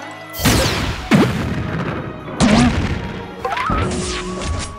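Several sharp, loud blasts crash one after another, each with a whooshing burst and rumbling tail: a Confringo explosion spell in a Paper Mario-style video game.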